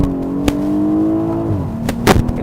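A grand touring car's engine revs loudly and close by, its tone holding steady before dropping and settling, with a couple of sharp bursts near the end.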